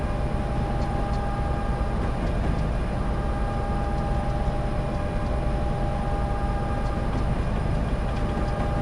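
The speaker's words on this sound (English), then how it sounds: "So we'll just let the train climb." A Conrail coal train in Train Simulator 2020 labors up a steep 2.3 percent grade toward Gallitzin, a steady, dense low rumble with faint sustained mechanical whine tones, constant and unbroken throughout.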